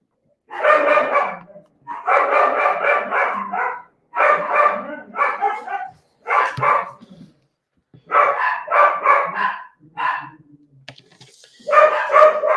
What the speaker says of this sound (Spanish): Y los otros perros le están ladrando